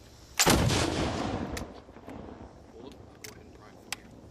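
A .94 caliber wall gun fired at a historic fort, one sharp loud blast followed by a rumbling echo that fades over a few seconds, with faint crowd noise after.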